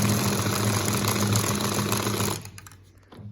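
A homemade paint can shaker built from a Sawzall reciprocating saw, its blade mechanism buzzing loud and steady with a rapid mechanical chatter, then cutting off abruptly after a couple of seconds and leaving faint residual rattling.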